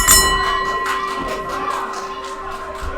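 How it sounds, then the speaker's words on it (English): A wrestling ring bell clangs in quick repeated strikes with a ringing metallic tone that sustains between hits, loud and close over crowd noise at a live independent wrestling show. "Ring that bell."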